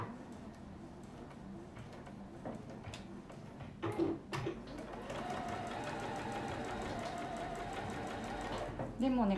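A sewing machine stitching fabric runs in a steady, fast mechanical whir for several seconds after a few clicks, with a person talking quietly in Japanese beneath it.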